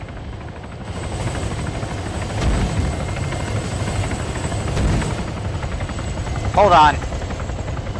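A helicopter flies in the Arma 3 battlefield game, its rotor drone steady and loud throughout, swelling slightly at moments, with a brief spoken voice near the end.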